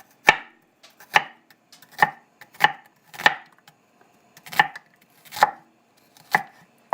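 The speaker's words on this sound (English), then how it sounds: "now we work onto our onions. You can slice them however you like as well." A knife slicing onions on a cutting board, eight sharp, evenly spaced chops with short gaps between them, close and clear with no voices.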